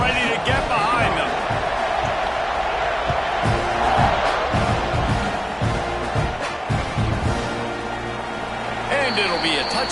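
A stadium crowd in an NCAA football video game roars and cheers continuously under a commentator's voice, with a broad, loud wash of noise that swells and eases slightly.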